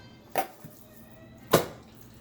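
Two sharp knife chops through salmon on a cutting board, cut into bite-sized cubes, with a single crisp thud early and a louder one about a second later against a quiet kitchen background.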